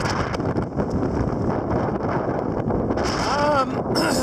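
Strong wind roars steadily across the microphone on an exposed mountain traverse in the Humboldt Range, loud and continuous with gusty buffeting and a brief faint whistle near the end.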